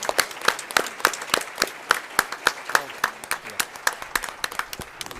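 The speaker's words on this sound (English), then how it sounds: "So one more round of applause for them," An audience at a school committee meeting applauds its first Green Apple Award recipients, a steady patter of claps with sharp individual hits standing out, moderately close and continuous throughout.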